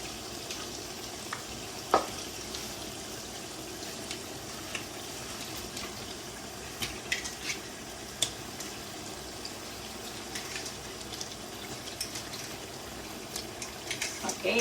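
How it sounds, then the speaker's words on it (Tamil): Washed mutton goes into a sizzling tomato masala gravy for mutton biryani, giving a steady frying sizzle with scattered small clicks and pops while a person talks over it. "இந்த டைமில் வந்து நான் கழுவி வச்ச மட்டன் எல்லாத்தையும் நான் இதில் சேர்க்க போகிறேன்."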